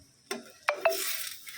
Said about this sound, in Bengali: তারপরে ডিমটা ভাজা হচ্ছে